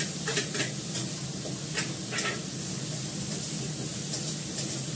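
Chopped onion and ginger fry in hot oil for a fish curry, giving a steady soft sizzle with a few brief scraping stirs near the start and middle.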